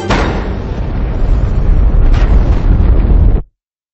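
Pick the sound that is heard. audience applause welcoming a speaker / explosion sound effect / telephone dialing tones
explosion sound effect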